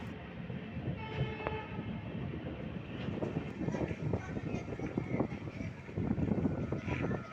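The Jaynagar Express pulls out of Sakri Junction with rhythmic wheel clatter over rail joints, carriage rumble, and a horn sounding faintly amid the steady, moderately quiet rolling noise.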